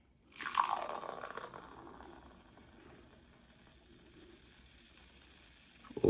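A close pour of Frostie's root beer with bright fizzing that swells, then settles into a soft, steady crackle of bubbles, ending in a small clink.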